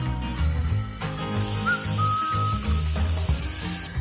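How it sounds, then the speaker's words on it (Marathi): A pressure cooker cooking dal khichdi lets out a loud, high-pitched steam whistle that shrieks continuously for a few seconds over a low background rumble. "कुकरच्या तीन ते चार शिट्ट्या घ्यायच्या"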